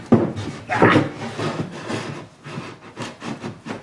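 Interior car trim panel slid into place along a seam, producing close scraping and rubbing with uneven pushes and bumps over a few seconds, with no speech.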